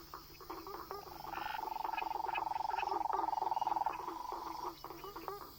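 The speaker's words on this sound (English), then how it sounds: "consider both the singing behaviors in frogs" Frogs call in a Brazilian field setting with a fast, rattling pulsed trill that rises out of quieter chirps, holds for a few seconds and fades, fairly faint against a soft night background.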